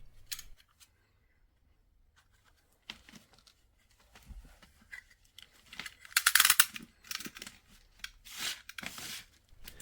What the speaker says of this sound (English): I will just cut a little off the barb at the top.